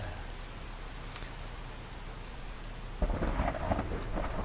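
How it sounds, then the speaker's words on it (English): Steady torrential rain and rolling thunder in the ghost-hunting video game Phasmophobia, a dense hiss throughout that swells into a louder, rumbling burst of thunder partway through. "Add to that the fucking torrential rain."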